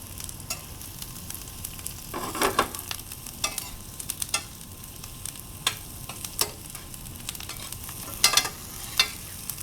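Onions and garlic frying in browning butter for adobo broccoli and cauliflower give a constant low sizzle, broken by sharp utensil scrapes and clacks against the pan at irregular intervals.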